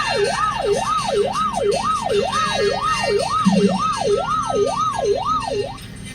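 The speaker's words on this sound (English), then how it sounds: "Hey, there goes a police car." Police car siren wails in a steady rising and falling cycle, loud and close over traffic rumble, fading slightly near the end.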